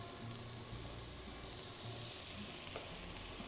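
Chorizo, onion and garlic fry together in a pan, giving a dense continuous sizzle and crackle at a constant level, close and steady without any voices.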